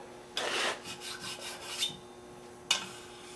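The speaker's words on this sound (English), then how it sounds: "This is a little diamond file. It's gonna take the finer part of it." A small diamond file is drawn in a few quick raspy strokes over a metal backing plate for a six-jaw chuck, faint and close, with short pauses between passes.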